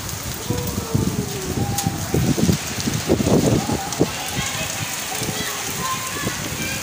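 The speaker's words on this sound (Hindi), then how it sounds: "बर्फानी बारिश हो रही है, ओले पड़ रहे हैं" Hail and rain pour down outdoors in a steady, close patter, with scattered sharper impacts from the hailstones, while people talk excitedly over it.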